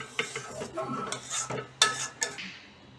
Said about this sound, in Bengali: চাটনিটা তাহলে আমি এবার ঢেলে নিচ্ছি